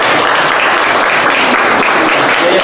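A loud, dense burst of audience applause fills the room at a medical presentation as the crowd claps for doctors, steady and sustained with no break.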